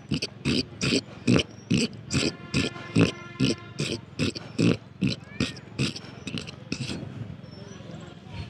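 A human voice imitates a pig's grunting, performed by an animal mimicry artist: a steady run of about fifteen short, rhythmic grunts, loud and close, with no other sound behind them.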